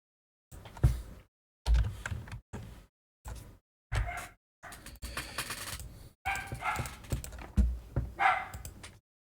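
Dog barks and yips arrive in short bursts across several seconds, fairly close, with gaps of silence between them and no talk over them, heard during a Pokémon HeartGold SoulSilver Battle Castle play session.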